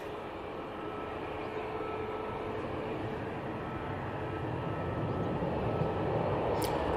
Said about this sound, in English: Easyjet now taking off